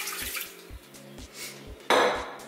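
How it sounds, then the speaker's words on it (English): Water pours into a pressure cooker holding frozen chicken in a home kitchen, a sudden close splash and gush starting near the end after light clinks of pots and dishes. "I will add some water."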